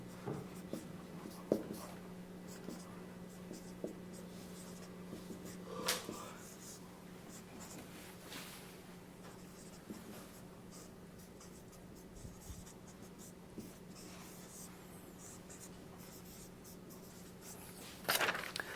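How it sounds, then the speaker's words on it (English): Pen scratching out control-theory equations on paper, a long run of soft, close strokes and taps with occasional louder scrapes, over a steady low hum and no speech. "Now I'm going to write this down"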